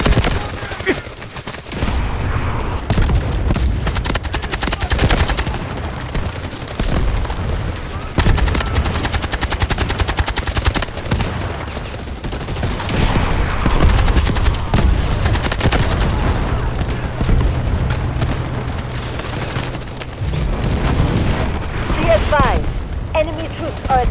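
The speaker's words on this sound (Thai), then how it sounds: "เขากำลังยิงกันอยู่" Gunfire in the Delta Force video game: dense, continuous bursts of automatic rifle fire and rapid shots, loud and close, with occasional heavier booms and voices talking over the battle.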